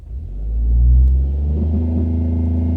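Toyota GR Corolla track car launching under launch control: a loud, close engine rumble swells into a revving surge, then holds a steady, throaty drone.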